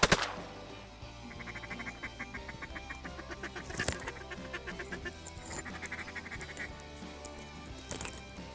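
Pintail ducks calling at a freshwater pond beside a pasture, a dense chorus of overlapping quacks and whistles with a sharp loud burst at the start and more flurries near the middle and end.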